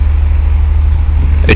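A light aircraft engine with the throttle at idle gives a steady, loud low drone with a regular pulsing beat, and a short sharp sound cuts in near the end.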